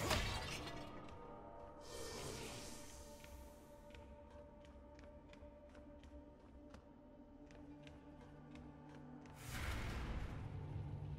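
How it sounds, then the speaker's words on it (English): Armor plates shatter and break off an enemy in the Warlander video game. Two quiet glassy crashes are separated by a stretch of faint ticking, with no talk. "it can break armor parts off of enemies and give you an opening to slice at their exposed flesh"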